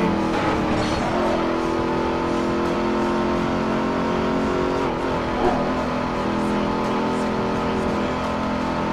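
Race cars roar through a race in the video game Midnight Club 3 DUB Edition, a steady droning engine tone with shifting pitch held at even loudness throughout, mixed under background music.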